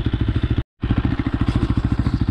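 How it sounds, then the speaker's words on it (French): A single-cylinder Beta RR 125 LC 4T enduro motorcycle engine thumps in a fast, regular rhythm close by, cutting out for an instant before chugging on. "À la décélération surtout, on entend un peu mieux le moteur."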